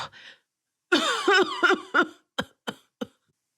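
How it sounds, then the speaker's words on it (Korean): An old man coughs hard: a long, rough, strained cough run, then three short, sharp separate coughs spaced evenly, close and loud with no talking. "노인이 울면서 말하다 기침을 하니까"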